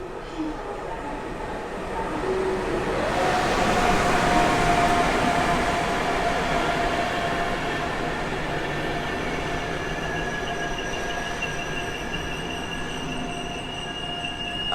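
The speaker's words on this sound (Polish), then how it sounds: "Pociąg melduje się na torze pierwszym przy peronie szóstym." A train rolls into Warszawa Zachodnia station with a rising rumble, squealing wheels sustaining high whining tones as it slows along the platform.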